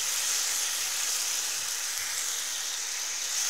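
Vegetarian sausages frying in a pan give a steady, loud, close sizzle, a dense unbroken hiss with no voices.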